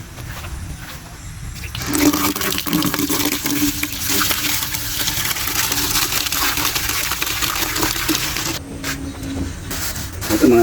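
Water pours steadily into a goats' drinking container on a rural farm, a continuous splashing gush that starts after a short pause and runs loud and close before cutting off near the end.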